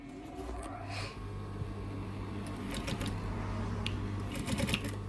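A sewing machine stitches felt in a steady low mechanical hum with light rattling ticks, faint and close, with no talk.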